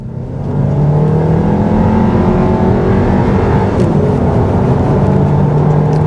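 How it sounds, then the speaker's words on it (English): A 2021 VW Tiguan SE R-Line SUV accelerating hard in sport mode on a clear main road, its engine note rising steadily from quiet to a loud, sustained whir and drone heard from inside the cabin, with no talking. "Let's put it to sport and see how this feels. All right, sport mode, floor it."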